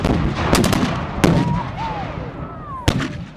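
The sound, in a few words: historical reenactment artillery cannon fire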